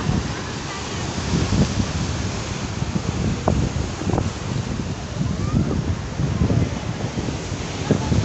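Steady roar of surf and wind at the Haji Ali Dargah seafront in Mumbai, a continuous broadband rush with rolling low surges as waves break nearby.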